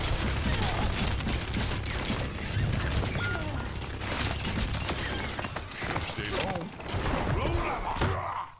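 Rapid, dense weapon fire from Mauga's guns in Overwatch 2 rattles continuously through a busy match, mixed with game effects and voices talking over it.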